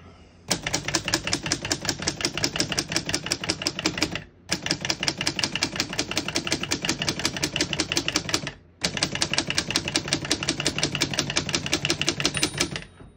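Fast, steady keystrokes on a 1926 Corona Four antique portable typewriter clatter on in three long bursts, separated by two brief pauses, close and loud.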